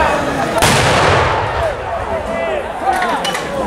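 A cannon from a 17-gun funeral salute fires one loud, booming shot that rolls and echoes away outdoors, with a low murmur of a gathered crowd beneath it.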